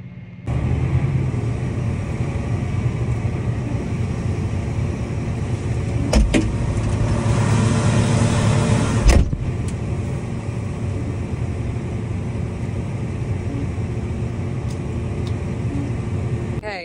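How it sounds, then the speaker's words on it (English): A farm truck drives up during a soybean harvest, its steady engine rumble continuous and fairly loud throughout, with a couple of brief sharp knocks or clunks partway through. "Greg's back with the truck, moves the cart out of our way"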